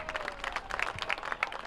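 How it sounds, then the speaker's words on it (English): Crowd applause at a high school football game, honoring grade school volleyball teams; steady, moderately distant clapping from the stands with scattered louder claps and light background chatter. "A big round of applause for all of our volleyball teams"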